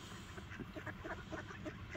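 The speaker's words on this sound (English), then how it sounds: "we're just going to enjoy the ducks." Ducks at a home under construction give a run of soft, rapid quacks and honks at low volume, fairly close, over a faint background hiss.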